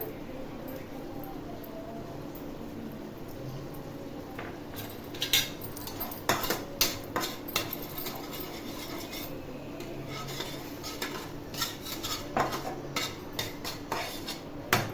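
Cornflour batter stirred and fried in a pan for veg Manchurian, with metal scraping and clinking of a spatula against the pan over a steady low background, the strokes growing busier and louder partway through.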